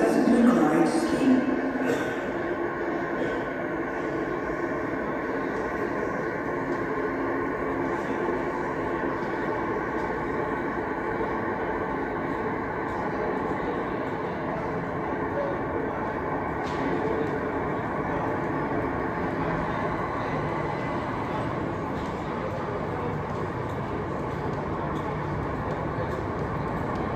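Low rumbling noise of a Heathrow Express train at a platform at London Heathrow Terminal 2 fills the space steadily, a continuous mechanical hum with faint rattles and no clear talk.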